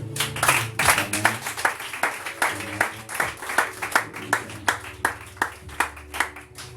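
A church congregation claps in a steady, rhythmic beat, many hands together at close range and fairly loud throughout.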